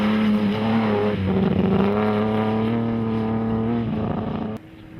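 Classic rally car engine running on a dusty East African Safari Classic stage, a loud sustained drone with a steady pitch that shifts slightly partway through, then drops off abruptly near the end.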